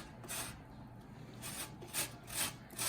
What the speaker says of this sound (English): they said you can use the small side here of the grater